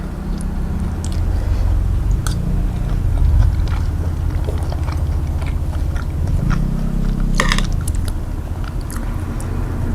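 Crisp water lily stems are bitten and chewed close to the microphone in a steady run of crunches, with a low hum underneath.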